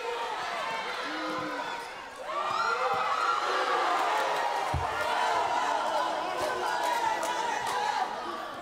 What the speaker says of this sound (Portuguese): Na torcida, os pais eufóricos vibram a cada lance.